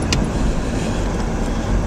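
Steady road traffic while driving through Cornwall, a continuous low rumble of tyres and engines with a brief faint clink near the start, no voices.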